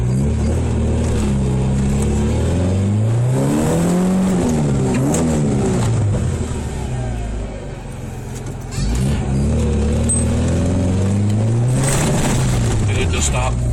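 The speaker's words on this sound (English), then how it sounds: "Well, the car just stopped. Okay, it just died." The engine of a 1991 Honda Accord with an intermittent stalling fault runs loudly and close, its pitch rising and falling with revving before dipping briefly and picking up again.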